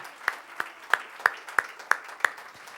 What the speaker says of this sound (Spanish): Ese aplauso es de alabanza.